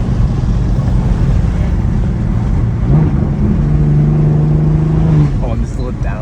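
A BMW 340i with an aftermarket exhaust drones loudly from inside the cabin, rising into a steady rev that holds for a couple of seconds before dropping back, with road noise and a voice underneath.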